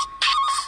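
A mobile phone ringtone bursts out in short, bright electronic phrases with a steady piercing tone, loud and close, with no talk over it, in an action-film scene.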